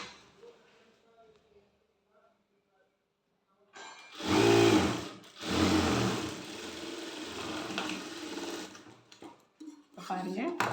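Sewing machine stitching the side seam of a maxi skirt, running in two loud close bursts of steady whirring after a quiet start, then continuing more softly with voice talking over it.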